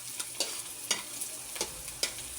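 Garlic sautés in a pan, a soft steady sizzle broken by several sharp scraping stirs of a utensil at irregular intervals, fairly close and quiet, with no talking.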